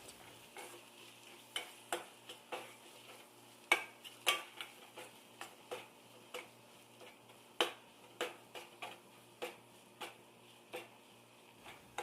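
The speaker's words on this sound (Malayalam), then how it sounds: "വീണ്ടും നന്നായിട്ടൊന്ന് മിക്സ് ചെയ്തെടുക്കാം." Spices for mushroom curry with coriander powder and coconut oil being stirred in a pan, sharp spoon clicks and scrapes repeating in an irregular rhythm over a faint, quiet background.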